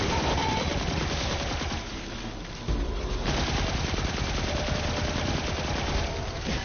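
Rapid automatic gunfire from a Bungie video game, loud and continuous across the whole stretch, with dense bursts and a brief dip in intensity midway before the shooting resumes just as heavily.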